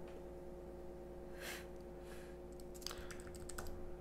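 Quiet keystrokes on a computer keyboard as text is typed, a few isolated taps at first, then a quicker cluster of clicks near the end over a steady low hum.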